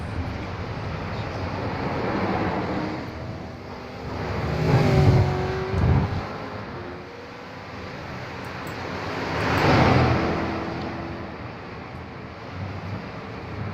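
V8 race cars lapping a track in a sim racing video game, engine roars swelling as cars pass twice with rising and falling pitch over a steady background drone.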